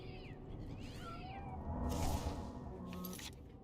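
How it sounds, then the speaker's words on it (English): Cats snarling and yowling in a fight inside the game Morroblivion, caterwauling cries rising and falling over a dense background of game noise, fairly faint. "I think I heard my cat fighting also."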